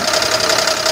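A car engine with a worn rod bearing knocks in a fast, steady metallic tapping rhythm over a continuous running drone, heard close up with no talk.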